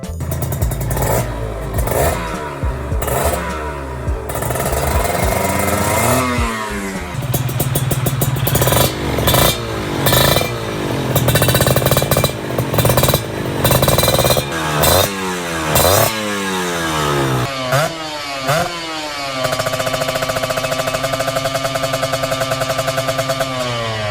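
A two-stroke motorcycle engine revs hard again and again, rising and falling in sharp bursts with rattly exhaust tones, then settles into a steady high drone.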